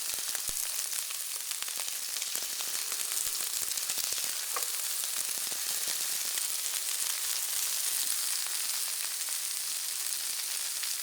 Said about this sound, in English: I'm searing the seafood